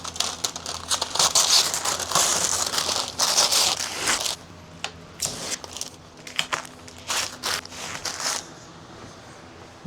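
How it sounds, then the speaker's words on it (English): Masking paper is crinkled and torn off a 1965 El Camino freshly sprayed with Eastwood epoxy sealer, loud close rustling and ripping bursts that thin into sporadic crackles and tears. "I love taking the paper off"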